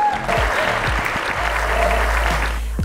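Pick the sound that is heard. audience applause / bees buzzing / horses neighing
audience applause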